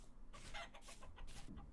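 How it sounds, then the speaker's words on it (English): Chicken clucking in the survival game Vintage Story, a quick series of short, bright clucks at close range over soft background game ambience, with no speech. "Chicken."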